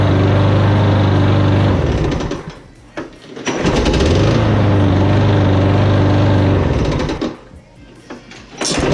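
A small Briggs lawn mower engine starts and runs loud and close after a carburetor change, revving steadily, briefly dropping off around the middle, then picking back up before fading near the end.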